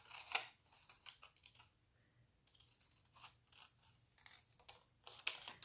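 Scissors snipping a strip off an index card for a craft banner: a quiet, close series of short crisp cuts and paper rustles, spaced irregularly over a few seconds.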